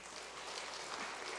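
A Sunday church congregation applauds. The clapping is faint and distant, a steady, even patter with no voices over it.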